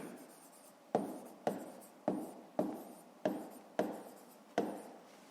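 A pen writes on paper during a fifth-grade maths exercise, making seven quick scratchy strokes in a steady rhythm, close and quiet, with no talk.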